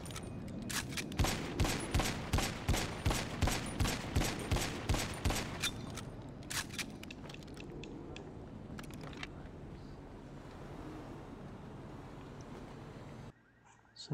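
Rapid pistol fire from a WM29 in a GTA game, a quick run of sharp evenly spaced shots for several seconds, then scattered single shots and a quieter stretch before cutting off.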